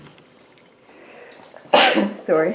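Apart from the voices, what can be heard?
sneeze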